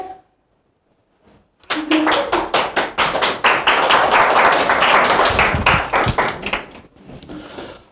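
Applause for three teams at a school quiz final for 5th–6th grade pupils: after a quiet start, a room of hands breaks into loud, dense clapping that holds steady for several seconds before thinning out.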